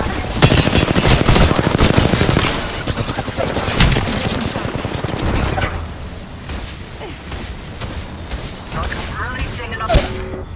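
Rapid automatic gunfire in a video game rattles in dense bursts, loud and close at first, then thinning into scattered shots and effects, with a voice calling out over the action.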